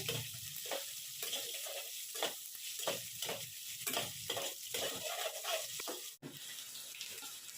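Onions fry in a pan for a besan potato curry, a hissing sizzle pulsing with regular stirring strokes, briefly cutting out near the end before resuming.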